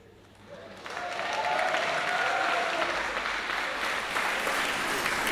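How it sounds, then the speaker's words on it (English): Audience applause at a fertility education talk swells in after a quiet first half-second, then holds as a dense, even clapping that sounds moderately distant. "Lovely to have this wonderful applause."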